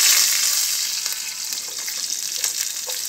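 Vegetables for sambar hiss and sizzle loudly as they hit a hot pan in a home kitchen, a dense frying roar that settles into a steady crackle with a few faint clinks.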